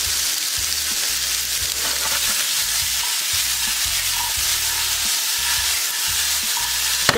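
Potatoes fry in a pan for a chorizo sweet potato hash with poblano and Yukon Gold, giving a steady, close hiss and crackle broken by low scraping knocks of stirring.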